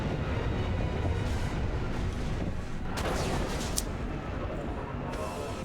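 Huge nuclear blast destroying a facility in the video game Mass Effect 2, a loud sustained roaring rumble with crackling bursts and a sharper boom near the middle, continuous throughout.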